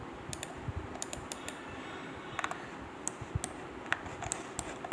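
Keyboard typing of commands in CAD software while making a building elevation drawing, quiet scattered keystrokes and clicks in a calm indoor room, no talking.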